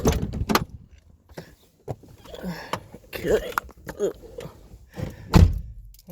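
A door on a Rover car is handled during a repair, with several sharp thunks, clicks and rattles spread through the clip, close by, and someone talking between them.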